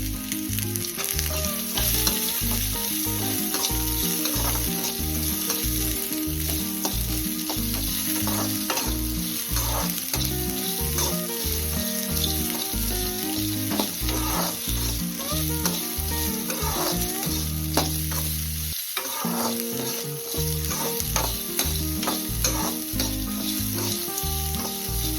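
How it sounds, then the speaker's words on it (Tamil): Onions and tomatoes sautéing in a pan for egg curry, a loud continuous sizzle with stirring scrapes throughout, and a tonal background layer alongside, without speech. "இப்போ வெங்காயம் வதங்கினோடனே தக்காளி லைனாக போட்டு எல்லாத்தையும் வதக்கிடலாம்."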